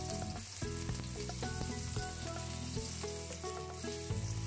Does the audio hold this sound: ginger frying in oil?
yes